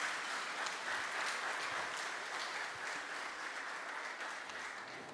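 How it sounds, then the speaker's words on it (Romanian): Steady audience applause fills a launch event hall at the Palace of Parliament, a dense even patter of many hands clapping that holds for several seconds and eases slightly toward the end, with no voices over it. "Aplauze, cred că merită aplauze."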